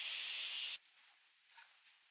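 Steam hisses loudly from a pot of cooked beef as it is opened, a strong close burst for under a second that cuts off sharply, followed by quiet and a faint clink.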